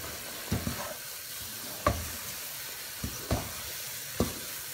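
Flour toasting in a pan while being stirred, a soft steady hiss broken by a few separate scraping strokes and taps, close and moderately quiet, with no talking.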